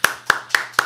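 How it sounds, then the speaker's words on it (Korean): Hands clap four times in an even rhythm to welcome a guest onto a Korean stock-market talk show. The claps are sharp, close and loud, with short pauses between them. "박수로 환영하겠습니다."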